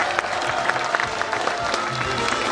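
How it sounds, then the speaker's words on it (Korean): An audience at a book launch claps for the governor, a dense, sustained patter of many hands close by, with a voice mixed in. "우리 이재명 경기도지사님께 여러분 다시 한번 큰 박수 한번 주시면 고맙겠습니다"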